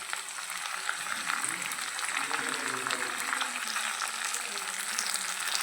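Fresh curry leaves fry in hot oil for a pickle, giving a steady, soft sizzle and crackle with faint stirring.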